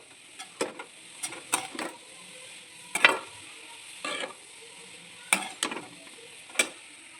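Cauliflower paratha filling cooks slowly over a medium flame, with a soft sizzle beneath intermittent scraping and tapping strokes of a spoon stirring it in the pan.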